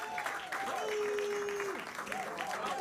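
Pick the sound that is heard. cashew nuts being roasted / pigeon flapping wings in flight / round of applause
round of applause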